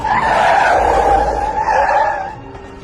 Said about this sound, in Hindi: समीर के पास बैठा जतिन चिल्लाया, अबे पागल हो गया क्या? गाड़ी ऐसे क्यों रोकी तूने?